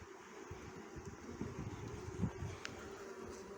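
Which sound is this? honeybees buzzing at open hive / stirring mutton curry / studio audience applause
honeybees buzzing at open hive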